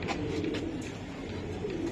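Racing pigeons coo close by, soft low throaty calls repeating in an uneven rhythm over a murmur of background noise, with no clear speech.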